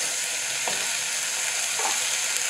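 Sliced mushrooms and tomatoes fry in a pan for a mushroom biryani, a steady, moderately loud hiss of sizzling with a couple of soft stirring scrapes and no voices.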